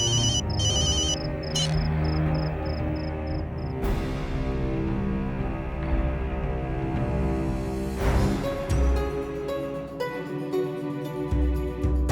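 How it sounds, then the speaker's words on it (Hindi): Phone ringtone chiming in a repeated pattern of short electronic tones over a sustained musical backdrop, then giving way to swelling dramatic music. "अर्जुन फोन उठाओ अर्जुन।"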